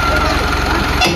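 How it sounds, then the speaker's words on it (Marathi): A tractor engine runs close by with a steady, rumbling drone at an even pace. A voice talks over it. "चिटकन तिकडं येतोय बंधून ट्रॅक्टर."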